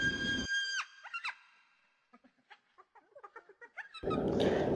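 Frantic high-pitched yelps, squeals and whimpers from wild dogs attacked by other predators, with harsh noisy bursts at the start and end suggesting a scuffle nearby.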